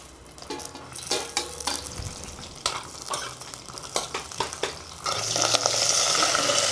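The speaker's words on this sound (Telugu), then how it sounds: "నూనె వేసుకొని ఇప్పుడు పచ్చిమిరపకాయలు ఉన్నాయి కదా, ఇవి వేపుకుందాం." Thick green bajji chillies fry in hot oil, sizzling and crackling with bursts of popping and stirring scrapes, swelling to a louder steady hiss near the end.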